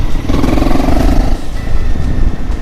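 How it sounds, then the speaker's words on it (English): A Honda CRF Rally motorcycle engine revs and pulls steadily on a mountain ride, a loud, continuous rumbling drone with a rising, spooling tone and no talk over it. "The motor spools up pretty easily, so even the wrong gear is not that much of an issue."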